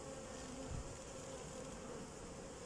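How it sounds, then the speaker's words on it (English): Honey bees buzz steadily around an open beehive during a hive split, a close, continuous droning hum with a brief louder swell as one agitated bee passes near. "it's a bee that wasn't so happy with me"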